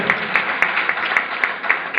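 Audience applause at an awards ceremony in Mumbai, a steady wash of clapping from a crowd with regular sharper claps standing out throughout.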